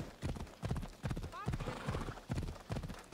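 A horse gallops in Assassin's Creed Odyssey, steady rhythmic hoofbeats at a quick pace with a short whinny in the middle, faint and low in level under someone talking.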